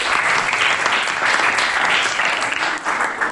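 A classroom group of students applauds after a group's presentation, dense and loud clapping that holds steady for the whole stretch with no pause.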